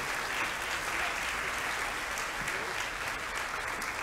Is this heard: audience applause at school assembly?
yes